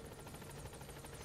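A helicopter's rotor thumping steadily in the video game Metal Gear Solid 5, a fast rhythmic chop over an engine drone, faint and continuous.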